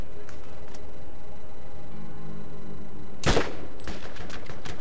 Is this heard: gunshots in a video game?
yes